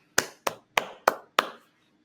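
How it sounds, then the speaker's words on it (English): Five sharp, evenly spaced claps ring out close and alone, each decaying quickly, after a school council election announcement. "Let's give them a round of applause."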